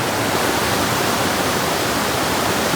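A waterfall at Sita Ghat roars as a steady, loud, unbroken rush of falling water, close by and with no voices.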